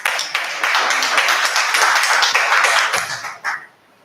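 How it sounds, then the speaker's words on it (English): A meeting audience of a Toastmasters club gives a round of applause: steady, dense clapping from a room of people that holds for a few seconds and then tapers off quickly. "Please give her a round of applause."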